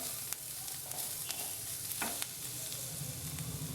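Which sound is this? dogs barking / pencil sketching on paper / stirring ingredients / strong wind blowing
stirring ingredients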